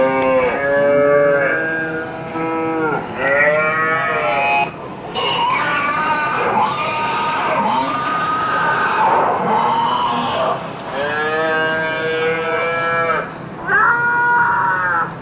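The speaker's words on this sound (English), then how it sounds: "I'm going to start the sounds of pigs screaming inside of carbon dioxide gas chambers." Pigs scream in carbon dioxide gas chambers, played as a recording: loud, shrill, wavering squeals repeated in long overlapping bursts, close and harsh, with brief pauses between cries.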